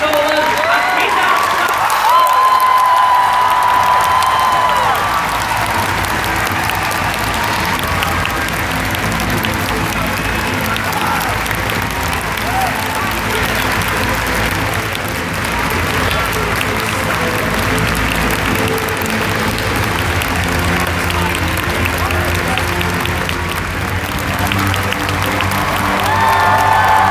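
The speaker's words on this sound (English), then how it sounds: "give them all a big round of applause" A festival crowd at the Doctor Who Festival in London applauds as the show's guests are welcomed on stage, loud sustained clapping and cheering that fills the hall without a break.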